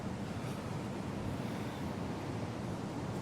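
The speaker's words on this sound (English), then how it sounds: "although you might not be able to hear anything for the sound of the sea" Sea waves wash continuously at the coast with wind buffeting the microphone, a dense, even roar with no distinct breaks and no voices.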